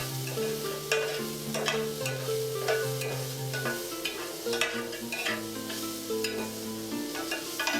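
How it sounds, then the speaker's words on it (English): Garlic and onions frying in a pan, with a steady sizzle and repeated scraping stirs at an unhurried rhythm, set close and fairly quiet beneath soft background music. "As we've added our garlic now, we're going to stir that all in as it finishes cooking up."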